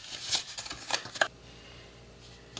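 Scored cardstock for a mini album is folded and creased by hand, giving a quick series of close papery crinkles and swishes over about a second and a quarter, then near quiet with one last faint tap.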